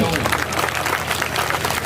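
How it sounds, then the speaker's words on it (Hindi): A crowd applauds steadily and densely throughout at a Hindi comedy poetry performance, the clapping filling the whole brief moment at close range. "ताली बजाओ"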